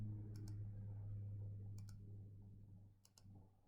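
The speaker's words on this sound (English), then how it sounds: "I click tidy up" Several quiet, sharp computer mouse clicks, in pairs, spaced a second or so apart over a steady low electrical hum.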